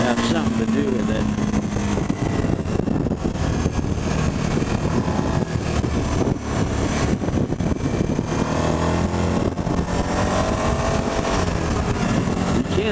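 A 2018 Suzuki V-Strom 1000 motorcycle out on a road, its engine droning steadily with constant wind rush and loud continuous noise throughout, the throttle easing slightly, with a rider's voice faintly audible under the roar.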